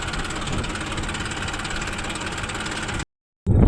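A tractor engine running at a steady idle with a knocking, rumbling drone up close, loud and continuous before cutting out briefly and starting again.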